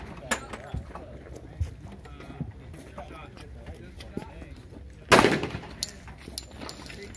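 A 1911 pistol fires at an outdoor gun range, with one loud, sharp report near the five-second mark standing out over a few fainter distant shots and ongoing chatter from people nearby.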